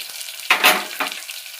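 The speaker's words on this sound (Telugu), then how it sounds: "మనం కట్ చేసి పెట్టుకున్న ఆనియన్స్, ఇవి త్వరగా మగ్గడానికి" Chopped onions hitting hot oil in a pan for puri curry, a sudden loud sizzling hiss with a second burst a moment later, close up and with no talking.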